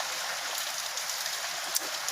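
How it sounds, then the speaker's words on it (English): Rain pours straight off an unguttered house roof onto the ground in Thailand, a steady dense hiss of falling water with a few louder splashes, close and continuous with no talking. "On the right you can see that the rain falls straight off the roof and onto the ground."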